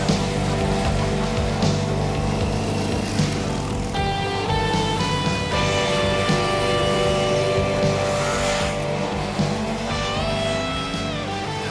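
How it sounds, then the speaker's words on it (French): Racing motorcycle engines screaming at the Isle of Man Tourist Trophy, with high revving tones rising and falling in pitch as bikes pass and overlap, loud and continuous over a dense roar. "retentit des hurlements des moteurs qui se défient dans la course la plus folle et la plus ancienne de toutes, le Tourist Trophy"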